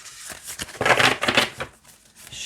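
A flexible matte oracle card deck shuffled by hand up close, with crisp papery riffles swelling in the middle and tapering off, moderately loud and without talking.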